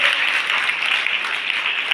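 Steady, loud applause from a crowd of students at a women's college event in Bikaner, honouring a student, sustained evenly throughout without any voices on top.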